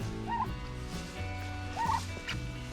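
Broad Breasted White turkeys raised for meat gobble in a pen, two distinct gobbles amid ongoing low clucking and chatter from the flock, fairly close with no talking.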